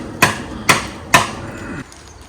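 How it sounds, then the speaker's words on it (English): A cement mixer is struck with a hammer three times in a steady rhythm. Each blow is a sharp, loud metallic clang that rings briefly, heard outdoors in a quiet setting. "there's Jasper hammering the life out of his mixer"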